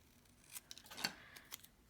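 Scissors make a few quiet, crisp snips through paper while a tag is trimmed, giving brief separate cuts close by in a hushed room, with no talking.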